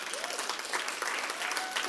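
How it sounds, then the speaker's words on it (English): Audience applause fills a room at a talk about entrepreneurship and financial freedom, a dense, steady clatter of many hands clapping at close range with no voices over it. "Not used to so much clapping."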